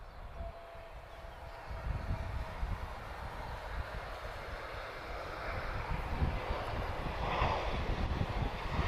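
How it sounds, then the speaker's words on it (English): A TAP Airbus A321 airliner at Lisbon Airport makes a low, steady engine rumble that slowly swells louder from a distance. "this TAP A321's coming from all angles at the moment"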